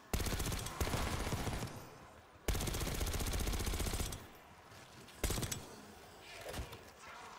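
Rapid automatic gunfire rattles in long sustained bursts with brief gaps, loud and dense, during a firefight in the video game Call of Duty Black Ops 6.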